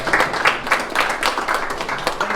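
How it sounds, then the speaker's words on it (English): Applause greets a guest speaker at a Rotary club meeting in Louisville, a modest group clapping at close range with a clear, pulsing rhythm of individual claps. "Let's give a round of applause for Joel"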